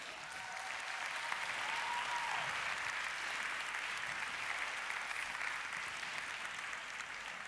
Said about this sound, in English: they deserve, all of them, a huge round of applause